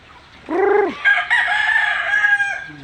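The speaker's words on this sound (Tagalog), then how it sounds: "manok na pula saka manok na puti" A rooster lets out one loud, close crow, a rising first note followed by a long drawn-out call that fades at the end, with no voices over it.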